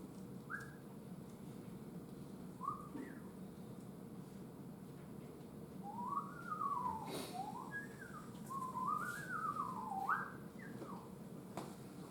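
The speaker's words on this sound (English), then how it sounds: "Don't whistle like this during the exam." A person whistles a short series of rising and falling notes, quiet at first, then longer swooping phrases, set against a low background hum with no speech.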